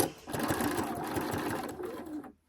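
A sewing machine runs in a short continuous burst of rapid mechanical stitching, reinforcing a seam on fabric for a Christmas tree skirt, close and fairly quiet, stopping abruptly at the end.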